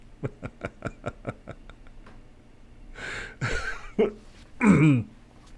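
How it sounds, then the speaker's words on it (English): A quick run of ticking clicks, then a short pause, followed by a few rough throat-clearing bursts close to the mic. "I had to clear my throat."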